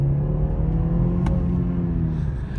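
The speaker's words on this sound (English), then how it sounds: "if you want to see a little bit of acceleration, you see" A 2021 BMW 530i xDrive with a 4-cylinder turbo engine accelerates, giving a steady, close engine drone and road rumble. The tone rises gradually over a few seconds, with no speech.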